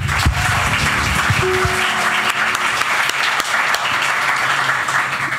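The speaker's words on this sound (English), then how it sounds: "another round of applause for Jamaica Man" Awards ceremony audience giving a round of applause, loud continuous clapping from a large crowd, steady throughout with a faint voice underneath at the start.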